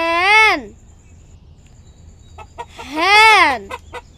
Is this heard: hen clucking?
yes